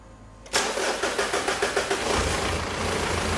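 A 3.2 litre Pajero diesel engine cranks with a rapid run of rhythmic starter pulses, then catches and settles into a steady, close, loud idle, with no talk.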